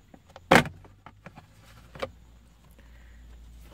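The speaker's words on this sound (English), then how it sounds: "You can pretty much grab the other side with your hand and just pry this whole thing out." Plastic center console armrest trim on a Honda Accord pried loose with a pry tool: a sharp, loud crack as the clip pops free, a softer snap a moment later, and light plastic rattles in a quiet interior.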